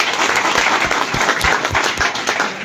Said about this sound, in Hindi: अभी हार्दिक स्वागत और अभिनंदन एक बार जोरदार तालियों से करें